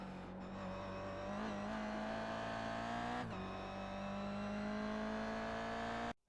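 A Toyota GR86 engine in the iRacing sim at Tsukuba hums steadily at high revs, with brief dips at gear changes before rising again in a continuous, close, loud drone.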